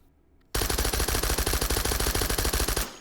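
Simulated M1A1 Thompson submachine gun fitted with a suppressor in the H3VR virtual reality game, firing one fast, sustained burst of rapid thudding shots for about two seconds after a quiet start.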